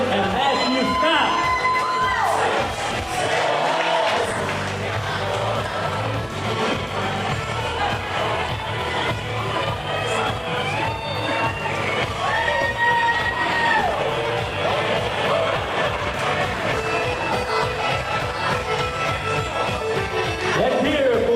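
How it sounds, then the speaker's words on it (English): Wedding guests at Eagle Manor in New Jersey cheer, whoop and shout for the couple in a loud, sustained crowd roar, with voices talking through it. "Round of applause for Megan Sherman and Matthew Scott"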